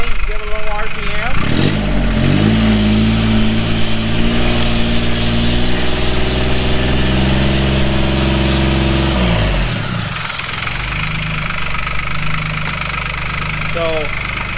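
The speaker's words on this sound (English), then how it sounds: "This is a cheapo grinder. And same thing, give it a little RPM." A cheap brush-type angle grinder powered by a car alternator whines and rattles loudly as it spins up, holds a steady buzzing drone for several seconds, then winds down and revs again.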